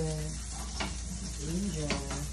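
Ginger frying in butter, with a steady dense sizzle held throughout and a faint voice briefly in the background.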